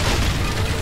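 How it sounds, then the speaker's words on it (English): An enemy blows up in Darksiders Warmastered with a loud, close, dense boom of broadband rumble that fills under a second without letting up. "Oh, and he's going to blow up."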